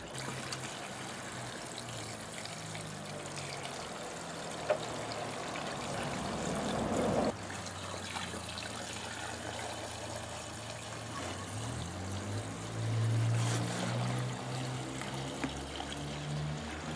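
Gasoline pouring through a makeshift funnel into a snow plow's tank makes a quiet, continuous trickle, with a short surge midway and a gurgling swell near the end.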